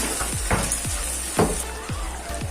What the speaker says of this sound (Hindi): अब हमें टमाटर को अच्छे से पकने देना है और इसे हमें चलाते रहना है।